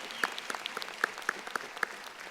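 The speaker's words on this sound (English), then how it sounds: "Please join me in giving another round of applause to Governor Hogan for really an inspiring address" An audience claps at an honors convocation after an address by Governor Larry Hogan, a dense, even patter of many hands heard from some distance, steady for a few seconds with no talk over it.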